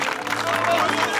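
A crowd claps and murmurs for the gendarmerie in a Turkish village scene, dense steady applause with voices mixed in throughout the short moment.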